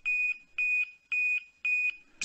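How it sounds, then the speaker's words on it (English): An audible zone-entry alarm sounds as a vehicle enters a monitored zone, four even electronic tones pulsing in a steady on-off rhythm, clear and close with no talk. "an audible alarm is triggered to alert the operator"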